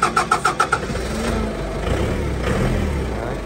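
A Japanese 2.5-ton manual-shift forklift engine cranks in a quick series of about six rhythmic pulses, then settles into a steady mid-pitched idle running close and moderately loud.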